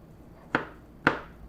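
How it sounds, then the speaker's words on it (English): Two crisp, separate knife chops through vegetables during home meal prep, evenly spaced about half a second apart, close and fairly loud, with no talking. "How small am I chopping these? Like minced?"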